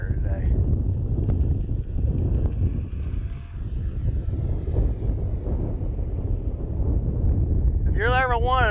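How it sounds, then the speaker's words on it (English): Gusty wind rumbles steadily across the microphone at an RC flying field where an F-86 Sabre jet is flown, a constant low roar with a distant jet whine rising and fading, and a voice briefly at the end. "Boy, this wind is a booger bear today."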